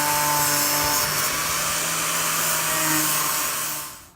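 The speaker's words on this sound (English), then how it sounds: "use the grinder again to pull that radius back in" An angle grinder works a curved handrail, a steady close whine that holds for about four seconds before winding down at the end.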